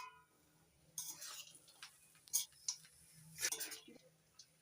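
A metal lid lifted off a pan of freshly cooked semolina upma on a home stove: a few quiet clinks and scrapes of metal, with small irregular taps spread over a few seconds against a soft, low hum.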